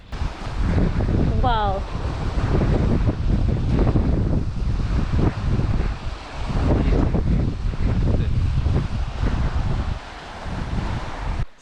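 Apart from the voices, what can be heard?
wind and surf waves at Alyko beach, Naxos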